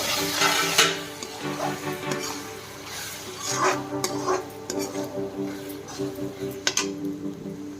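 Lid taken off a pot of pesara punukulu pulusu, followed by steady stirring with a spoon scraping and clinking against the pot over a soft continuous bubbling background.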